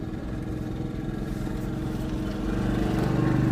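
A car engine hums steadily as the clutch is slowly let out in first gear with light throttle, the low drone swelling slightly louder near the end; no talking is heard.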